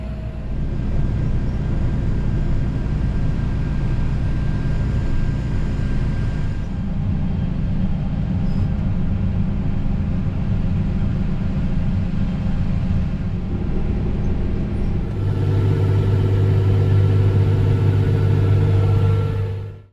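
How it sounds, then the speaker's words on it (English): A tractor pulling a grain cart runs beside a combine in a dark field during harvest, a steady loud engine drone and rumble throughout with a shift in tone partway. "running his tractor and grain cart beside the combine here in the dark"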